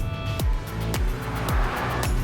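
A 2021 Polestar 1 hybrid accelerates hard, its drivetrain droning loudly with a strong low rumble, cut by sharp falling sweeps that repeat roughly every half second.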